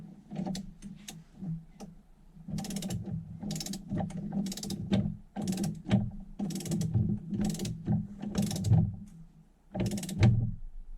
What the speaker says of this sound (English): I had to get an adapter because I only have a 3/8 torque wrench here